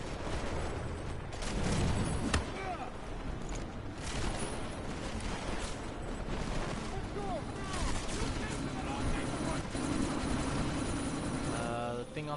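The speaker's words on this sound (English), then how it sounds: "We can't let that chopper take off, Jensen." Helicopter in the video game Deus Ex Mankind Divided: continuous rotor and engine roar mixed with bursts of gunfire and mechanical clanks, loud and sustained throughout, with voices talking over it.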